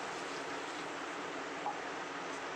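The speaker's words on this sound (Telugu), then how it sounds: "తర్వాత కొంచెం వాటర్ వేసుకున్నాం ఫ్రెండ్స్." Water is poured into a cooking pot holding tomatoes and green chillies for gongura chutney, a soft, even, continuous splashing rush with no talk.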